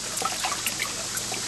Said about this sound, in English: It pumps the water up into the tank